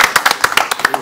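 Band members on stage at a rock show clap in a steady rhythm, about ten sharp, close claps in roughly one second with no other sound between them.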